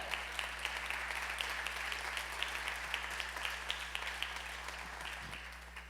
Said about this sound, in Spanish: Los que lo crean, dale un fuerte aplauso a nuestro Dios